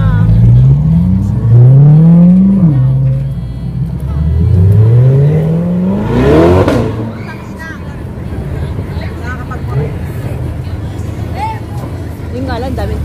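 Cars pass along a busy street near Tel Aviv Port, with several rising and falling engine sweeps close by in the first half and one sharp whoosh past at the midpoint, all under steady crowd babble and traffic noise.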